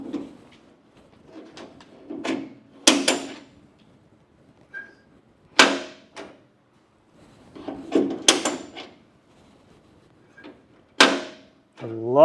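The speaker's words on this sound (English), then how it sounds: "That's a closed door." A Camaro's doors swing shut several times, with short solid thumps and latch clicks spaced apart amid quiet gaps and a few faint voices.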